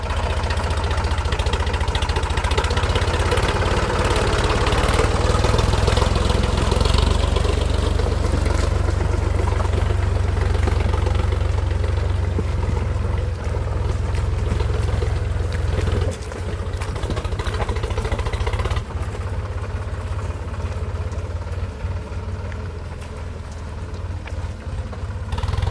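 On a farm during rice transplanting, a tractor loaded with rice seedlings runs at idle, a loud, steady low engine rumble close by that holds for the whole stretch with slight shifts in tone.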